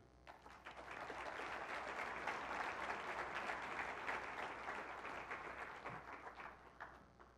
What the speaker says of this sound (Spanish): que todos le podamos dar un gran aplauso a todas las personas que durante estos 10 años han hecho realidad el CADE Educación